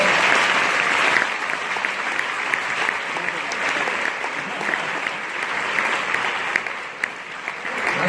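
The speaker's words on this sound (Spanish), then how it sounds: "gracias por esos aplausos que no podéis reprimir." A theatre audience at a flamenco comedy show claps in a steady, dense wave of applause for about eight seconds, with occasional louder claps standing out.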